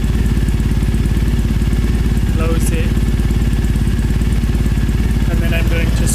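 A Triumph motorcycle engine idles close by with a steady, even mechanical pulse, a brief voice speaking over it partway through.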